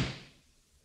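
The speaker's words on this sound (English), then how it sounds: "Here's the attic door here." An attic door gives a single dull thud at the start, then fades quickly into quiet, in an old radio comedy program.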